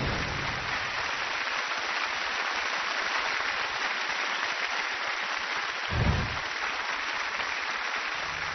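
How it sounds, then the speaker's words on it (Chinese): A studio audience at a Chinese TV variety show claps continuously, a broad, even wash of applause held steady throughout, with a brief low thump near the end. "谢谢大家热情的掌声"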